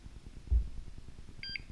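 Altair 4XR four-gas monitor giving its startup alarm: a pair of short electronic beeps near the end, fairly faint over low background rumble, with a brief thump earlier.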